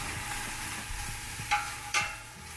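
Broccoli and leek sizzling in a pot while being stirred, a steady low fry hiss with a couple of sharper scraping clinks from the spoon, fairly quiet and close.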